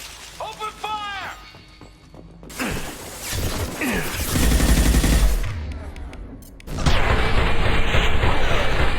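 Sci-fi combat in the video game Mass Effect 2, with loud bursts of gunfire, shattering impacts and mechanical effects mixed with voices and music, building into dense continuous firing.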